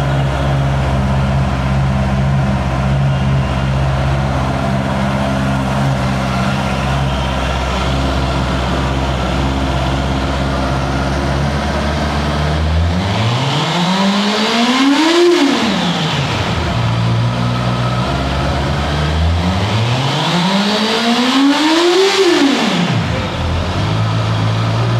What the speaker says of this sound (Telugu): దీని ఒక ఎగ్జాస్ట్ నోట్ కూడా నేను ఇప్పుడు మీకు ఇచ్చేస్తాను